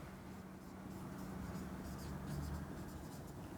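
A pen or marker writes a math equation by hand in a quiet, steady scratching against a soft background hiss.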